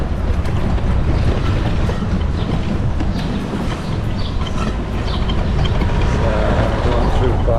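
A boat cruises along the Rhine through Basel with a steady, loud rush of engine, water and wind noise throughout, with no clear voices.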